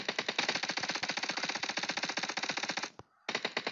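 MP5K submachine gun firing in PUBG Mobile, a loud, fast automatic burst of evenly spaced shots lasting about three seconds, then a brief gap before the rapid fire resumes.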